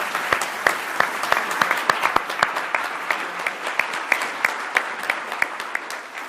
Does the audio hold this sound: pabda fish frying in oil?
no